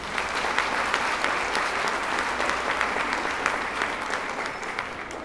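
Sustained applause from a large audience at an Outubro Rosa (Pink October) breast cancer awareness event held by the Coopermota cooperative in 2022, many hands clapping steadily and densely for the whole stretch, with no voices standing out.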